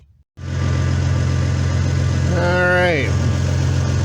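A 1997 Toyota 4Runner engine starts and settles into a steady, loud idle close by after a brief quiet moment, with a short spoken word over the running motor.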